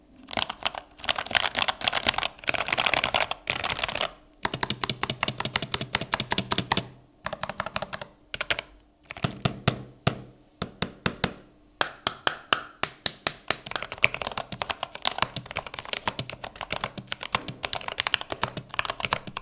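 Rapid keystrokes clack on a WorkLouder Nomad E low-profile mechanical keyboard, close and crisp, in quick bursts broken by short pauses.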